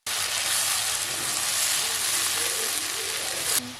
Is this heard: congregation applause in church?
no